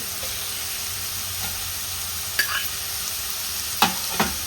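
Onion and tomato frying in mustard oil in a pan for a fish masala, with a steady soft sizzle throughout and a few brief stirring scrapes and clinks near the end.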